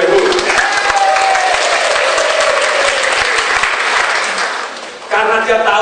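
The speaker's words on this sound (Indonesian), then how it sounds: "Boleh tepuk tangan yang meriah" A seminar crowd gives a lively round of applause: loud, steady clapping with cheering voices layered over it. A brief dip is followed by a renewed burst near the end.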